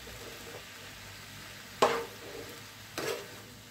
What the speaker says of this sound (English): I have to do the stir or the mixing